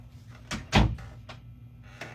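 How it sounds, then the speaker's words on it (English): An indoor room door swings shut with a few soft knocks and then one solid thud, followed by a faint click, all close and brief in a quiet space. "let me just go and close my door"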